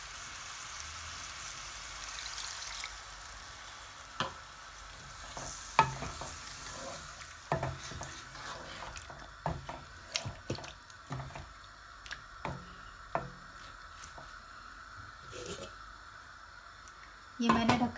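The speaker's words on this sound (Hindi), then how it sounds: "अब मैं इसे 1 गिलास पानी डालकर पकने छोड़ देती हूँ।" Chicken and potato korma cooks in a pot after water is added, giving a faint, soft sizzle and bubbling with scattered stirring clinks and scrapes, quiet and close.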